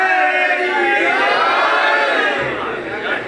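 A Muharram gathering crowd in Multan chants slogans together in a loud, sustained roar that swells and then fades slightly toward the end.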